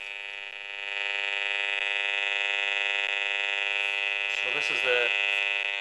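A continuous high-pitched electronic tone, a radiation meter's rapid beeping while measuring a DECT baby monitor, sounds steadily and close, with a brief word spoken near the end.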